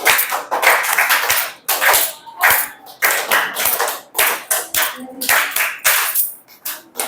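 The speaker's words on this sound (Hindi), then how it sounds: "तो लड़कों के लिए हमें 3 ताली" Students in a classroom give a round of rhythmic clapping for the boys, crisp close hand claps falling in quick clustered beats with short pauses between groups.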